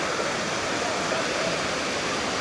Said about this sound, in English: don't you like the sound of the waves?